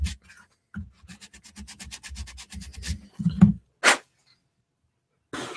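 A sanding sponge rubs rapidly back and forth along a styrene plastic edge, close up, with a run of quick even strokes followed by a few louder isolated scrapes and then quiet.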